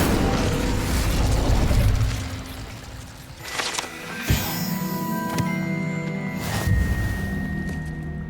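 Incendio fire spell cast in the Hogwarts video game, heard as several sharp, booming bursts with crackling flare-ups over a steady rumbling game backdrop.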